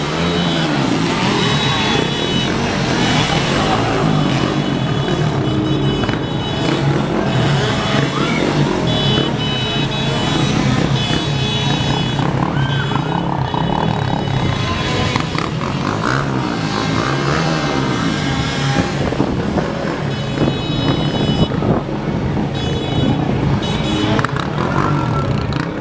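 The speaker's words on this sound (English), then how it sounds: "It's very loud out here right now. And they're bringing the vehicles out here again." At a Halloween Horror Nights event in Orlando, loud vehicles roar and rev continuously among a crowd, a dense din of engines with tonal whines and voices mixed in.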